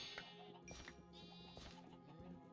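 Sheep bleating in the Minecraft video game, several wavering blocky bleats in quick succession, fairly close and clear with no talk over them.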